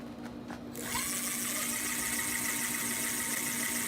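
An electric bike motor on a junior bike spins up when the throttle is pressed indoors, rising after about a second into a steady, high whirring drone that holds to the end, with a few faint taps before it starts.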